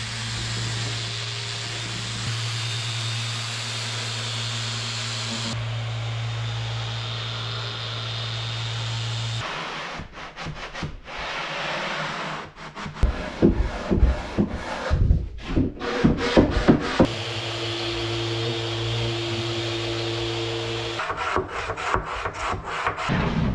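Wood being sanded for a dinette bench on a wooden motor vessel, steady rubbing and scraping strokes that grow louder and rougher midway, with a constant machine hum in the background.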